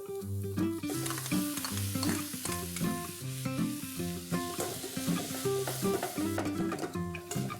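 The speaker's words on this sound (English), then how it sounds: "Cook the onions slightly, but don't let them turn brown. And now I'm going to add tomatoes," Tomatoes are tipped into lightly cooked, finely chopped onions for a Gujarati dish, giving a steady close sizzle of frying with repeated scraping and stirring in the pan.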